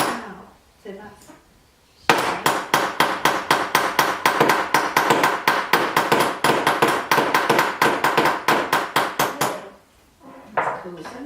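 A texture hammer strikes metal in a fast, steady series of sharp ringing taps that last several seconds, close and loud. Brief talk comes before and after the hammering.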